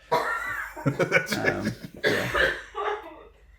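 A person coughs several times in short bursts, close and fairly loud, between chatter and laughter during a casual podcast conversation.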